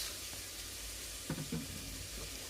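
Chopped capsicum and cabbage stir-fry in a pan with a steady, moderate sizzle, punctuated by a couple of brief scraping stirs near the middle.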